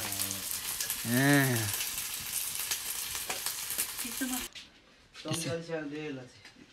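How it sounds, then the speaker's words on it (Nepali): Food frying in a pan gives a soft, steady sizzling hiss beneath a person talking, then the hiss drops away as the voice continues alone. "यो चाहिँ फ्राई हान्दैछ"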